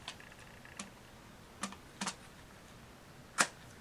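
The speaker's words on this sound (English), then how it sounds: "I think there's a place in the top for this stuff to click in." A plastic part clicks into a game controller, heard as a few small, sharp, separate clicks and snaps spaced over a few seconds against near silence, the last one the loudest.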